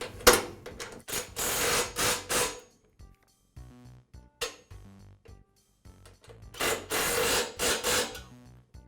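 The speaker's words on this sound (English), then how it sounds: "And secure them with the impact." Impact wrench driving nuts onto a Yard Machines lawn mower handle: several loud, close rattling bursts of roughly a second each, separated by quieter pauses with faint handling noises.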